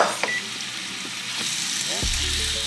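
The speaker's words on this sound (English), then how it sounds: "We're getting ready to saute up our mushrooms and peppers, our jerk mushrooms and peppers." Jerk mushrooms and peppers sauteing in olive oil in a pan give a steady close sizzle, with a brief tonal squeak and a humming electronic tone partway through.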